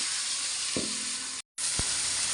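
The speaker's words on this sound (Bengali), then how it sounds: "এবার এই খোসাগুলোও ভাইজা নেব একটু সুন্দর করে" Pointed gourd peels fry in hot oil in a pan with a loud, steady bright sizzle, broken by a couple of soft stirring knocks and one short dropout; nobody speaks.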